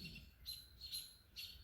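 Small garden birds chirp in sharp, repeated bursts about every half second, faint and somewhat distant, alarmed by a nearby Cooper's hawk.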